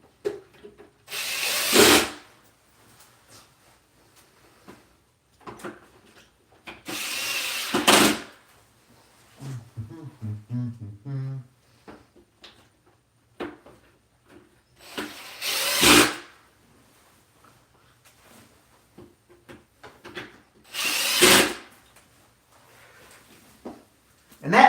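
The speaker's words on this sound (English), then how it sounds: "Get the drill going here so I don't have to thread everything all day long." A power drill runs in several short whirring bursts of about a second each while a lamp is assembled, separated by quiet pauses and some handling noise, with someone talking in between.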